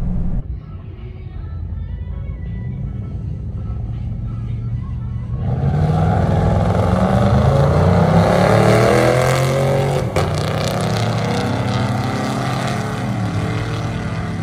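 A lifted 2019 Chevrolet Silverado with a 6.5-inch lift, 35-inch tires and an 8-speed transmission sits at a low rumble, then bursts into hard, loud acceleration that holds strong to the end.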